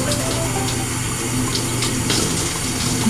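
Water running steadily while shampoo is rinsed out of curly hair, a continuous close hiss of flowing shower or tap water with small splashes as the hair is squished.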